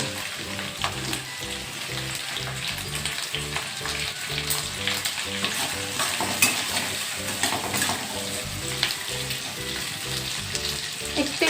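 Capsicum pieces sizzling in a pan for restaurant-style chilli chicken, a continuous close fry with light utensil scrapes and steady rhythmic background music underneath.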